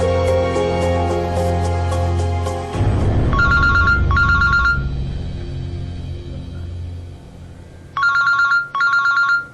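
A phone ringtone plays over steady background music in a TV drama scene, a loud close electronic ring repeating in short double bursts.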